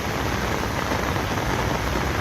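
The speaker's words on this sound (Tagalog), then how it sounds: "medyo hindi pa po tumitila ang lakas ng ulan" Heavy rain pours down during a flood, a dense, steady hiss of drops drumming on surfaces, loud and unbroken with no voices over it.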